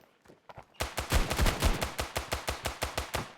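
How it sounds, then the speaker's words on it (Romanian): An AK-47-style rifle in the mobile shooter game Standoff 2 fires a rapid burst of about a dozen sharp, evenly spaced shots after a few quieter clicks, loud and close with no talk over the gunfire. "E ca un fel de AK-47. Dar numai că ăla face buf, buf, buf."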